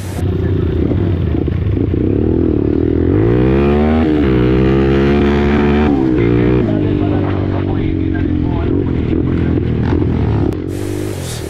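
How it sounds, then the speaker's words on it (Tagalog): Big motocross motorcycles racing on the Calasaguen MX track, a loud close engine revving up and down through gears with rising and falling whine, rattling clatter throughout. "may mga kasabay tayong mga malalaking motor gaya ng yan nasa tabi natin"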